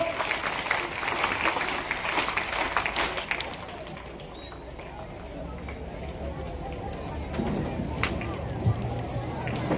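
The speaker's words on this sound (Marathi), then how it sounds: "सर्वांनी टाळ्या वाजायचं." Applause from the audience at a high school annual gathering during a felicitation, dense clapping strongest in the first few seconds and then thinning into scattered claps, with voices and crowd murmur alongside.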